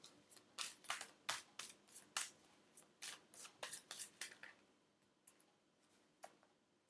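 Tarot cards are handled and drawn from a deck in a quick series of soft, crisp, close-up rustles and flicks that thin out toward the end; very quiet.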